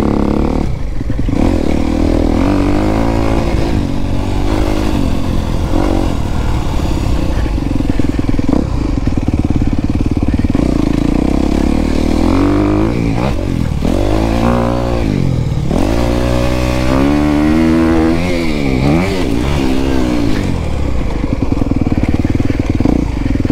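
Dirt motorcycle revving and accelerating on a dusty trail in Washer Valley, with a loud, continuous engine note that rises and falls through repeated throttle surges and a clattery mechanical edge.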